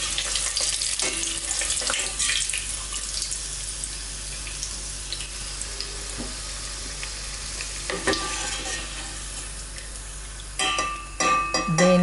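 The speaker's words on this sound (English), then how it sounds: "If you want to fry a lot of artichokes" Steady sizzling and crackling of artichokes frying in oil, fairly close, with occasional clinks and stirring sounds and a busier burst of clatter near the end.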